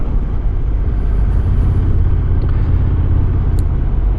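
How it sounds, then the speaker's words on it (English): A Honda NT1100 DCT motorcycle cruising at 61 mph in sixth gear gives a steady, loud, low engine rumble with wind noise, unbroken throughout with no talking. "Alright, I'm up at 61 miles an hour,"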